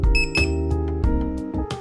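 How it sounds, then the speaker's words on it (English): An electric skateboard remote with an FOC3.0 controller for an Endeavor board gives a pairing signal: a string of short, loud electronic beeps and tones in quick succession, with no talking. "When you hear a beep"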